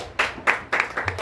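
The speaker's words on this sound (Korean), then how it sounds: "승리한 여러분들에게 박수를 올립니다" A church congregation applauds in short, uneven bursts of clapping, a brief patter of hands in a hall rather than a sustained ovation.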